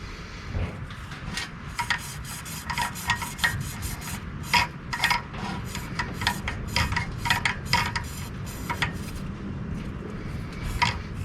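Rubbing and scrubbing on a 1972 Mercedes-Benz 280SE 4.5 distributor part being cleaned with DeoxIT, a steady close scratchy rasp with quick repeated strokes and no talking.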